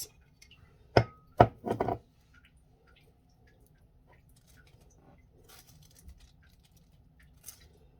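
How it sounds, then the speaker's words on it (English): Scooping whipped wax melts: a few close, soft scraping thumps clustered near the start, then faint scattered taps over a low steady background. "we're gonna scoop all our wax"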